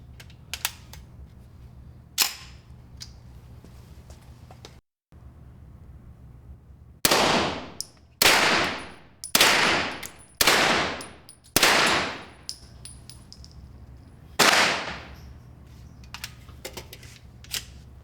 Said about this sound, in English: I'm going to go ahead and fire it up with the Glock magazine and let you see how that works